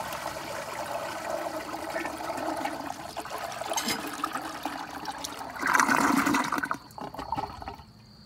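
A 1959 Nationaline Envoy 1.6-gallon toilet flushes during a performance test, with a close, steady rush of water that surges louder partway through, then drops to a trickle as the bowl refills.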